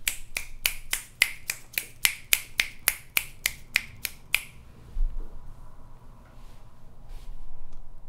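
Sharp, evenly spaced clap-like hits in a played rap track, about fifteen crisp beats in a steady rhythm for roughly four seconds, then near silence with faint low rumble.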